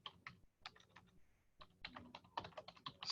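Quick bursts of typing on a computer keyboard, clicky keystrokes in uneven clusters with a short pause midway, close and fairly quiet, no voices.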